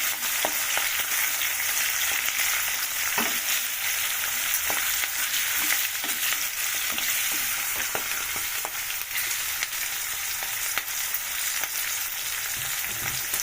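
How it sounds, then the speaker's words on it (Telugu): Chillies frying in oil for sesame chutney produce a steady, close sizzle throughout, with occasional small pops and stirring sounds and no talking. "తగ్గుతుంది కదండి నూనెలో వేస్తే. ఇట్లా వేయించుకోవాలి."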